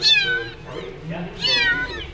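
A small kitten in a winery lets out two clear, rising meows separated by a brief pause, close and fairly loud, with soft speech in between.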